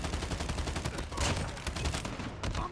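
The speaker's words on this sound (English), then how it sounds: "Oh, of course, I'm getting shot at." Gunfire sounds in a Call of Duty Mobile match, with rapid bursts of shots and fusillade crackle over dense game noise. The firing is continuous and fairly close.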